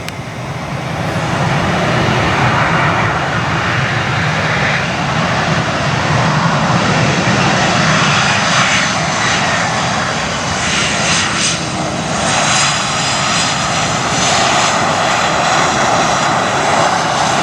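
Jet engines of an Endeavour Air Bombardier CRJ roar steadily and loudly at an airport, a continuous broadband rumble and whine lasting the whole stretch without talk.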